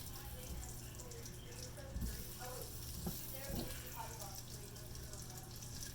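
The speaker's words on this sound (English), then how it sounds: "I'm gonna leave it on the sear. Saute those for a little bit." Vegetables sauté in butter on a sear setting, a soft continuous sizzle and crackle with occasional scraping stir sounds, quiet and close.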